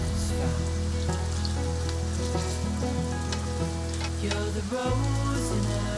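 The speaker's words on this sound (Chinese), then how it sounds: "把蘑菇丸放进来煎" Vegan mushroom balls coated in a thin layer of flour, pan-frying in oil, give a steady close sizzle throughout, with background music playing underneath.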